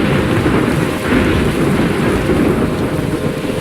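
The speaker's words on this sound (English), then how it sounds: "I'm trapped in a storm?" Thunderstorm in the video game Life Is Strange: steady heavy rain with low, continuous rumbling thunder, loud and dense throughout with no pauses and no talking.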